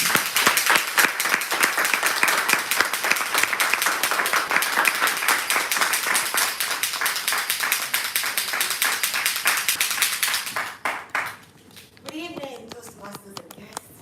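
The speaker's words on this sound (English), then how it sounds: "with a very resounding applause, let us make welcome our general evaluator" At a Toastmasters club meeting, the audience gives loud, sustained applause to welcome the general evaluator. The clapping stops abruptly near the end, and a voice begins speaking.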